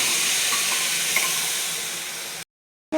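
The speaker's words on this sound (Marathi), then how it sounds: "ते शिजवलेले हरभरे टाकून घेऊ आपण" Cooked chickpeas tumble into a hot pan of oil, turmeric and homemade spice masala, setting off a loud, steady sizzle with stirring that carries on for over two seconds before breaking off into silence.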